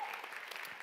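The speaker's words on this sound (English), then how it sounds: "Come on, clap for them." A church congregation applauds, a dense, steady wash of many hands clapping together throughout the short moment.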